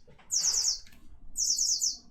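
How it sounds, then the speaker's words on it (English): A bird toy gives off two bursts of shrill, warbling laser-like chirps separated by a short gap, close and clear over a faint room background. "Sounds like laser beams being shot."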